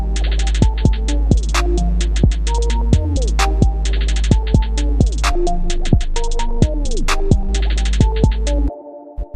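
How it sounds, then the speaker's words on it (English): A heavily distorted electronic beat in the style of Lil Uzi Vert and 21 Savage, made in FL Studio with Fruity Fast Distortion, thumps in a steady loop with buzzy, saturated bass drops and crisp hi-hats, then cuts off abruptly. "add Fruity Fast Distortion and set it to B"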